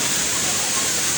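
Tamasopo waterfall in Mexico, water pounding as it falls, a steady loud broadband rush of falling water filling the whole moment with no break.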